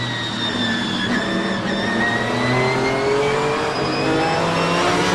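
Brumos Porsche race car heard from onboard during a race, its engine a loud, steady drone that climbs in pitch as it accelerates, with harmonic whine and road and wind noise throughout.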